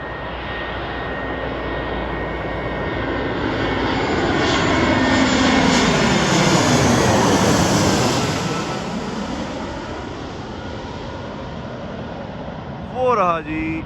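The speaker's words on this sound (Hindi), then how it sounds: "एयर अरेबिया का जहाज़ आप लोगों के सामने पेश खिदमत लैंड होने जा रहा है फैसलाबाद इंटरनेशनल एयरपोर्ट पर।" An Air Arabia airliner landing at Faisalabad International Airport on a flight from Sharjah roars loudly, its engine whine swelling and sweeping in pitch as it passes close, then fading, with a voice talking near the end.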